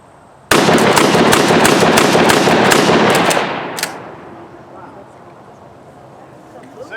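A WWII-era trench shotgun slam-fired with double-aught buckshot, a rapid string of about eight loud, sharp blasts packed into three seconds, the last shot trailing off into open-air echo and quiet background.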